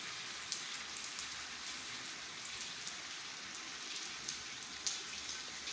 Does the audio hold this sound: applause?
no